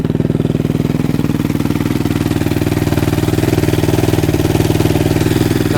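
A 450cc dirt bike engine idles close by, a loud, steady, rapid thumping pulse that holds an even rhythm without revving throughout.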